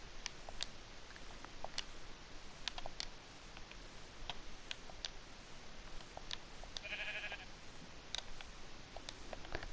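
Sheep in the Minecraft video game bleat faintly at intervals over steady rapid ticking clicks, with one brief clearer bleat midway.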